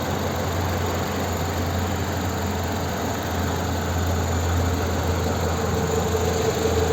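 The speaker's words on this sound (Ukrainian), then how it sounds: "ось звук двигуна" A 2008 Renault Scenic 2 1.6 petrol engine idles steadily, a smooth continuous hum with a faint mechanical whine, close and even throughout, with no voices.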